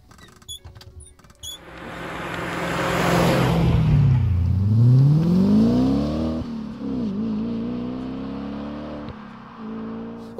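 Audi S4 Avant with a 4.2 V8 revs hard from idle, the loud engine note sweeping up and down in pitch, then settling into a steady rumble, with no one speaking.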